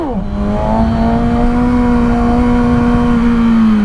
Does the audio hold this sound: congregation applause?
no